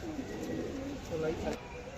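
A male pigeon of the red-and-black-headed kind gives soft, low cooing at close range, a couple of brief murmuring phrases over a quiet background, while a voice is also present.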